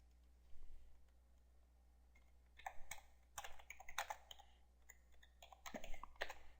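Quick bursts of typing on a computer keyboard, fairly quiet and close, beginning after a couple of seconds of near silence and continuing in uneven clusters of clicks.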